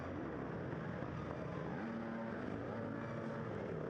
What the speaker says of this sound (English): Listen to him revving the engine